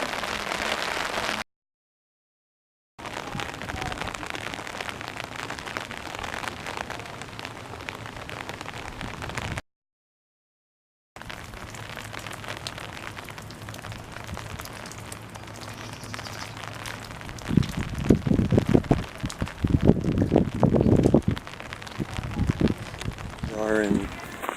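Steady rain falls in St. Peter Port, Guernsey, a continuous outdoor hiss of drops with two brief gaps, growing louder and denser near the end.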